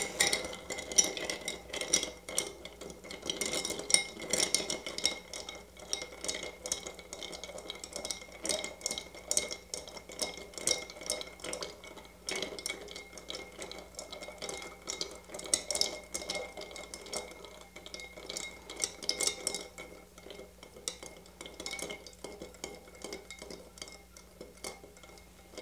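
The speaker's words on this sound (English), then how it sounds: "Now to this, we're going to add our ice. I just want to stir that up." Ice rattles and clinks against a glass as a cocktail is stirred, a long run of quick, close, irregular ticks with a faint steady hum beneath and no talk.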